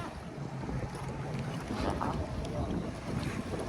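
A jet ski rides on the Mekong River along the Thai-Lao border, giving a steady engine drone mixed with rushing water and heavy wind buffeting the microphone, continuous and fairly close throughout.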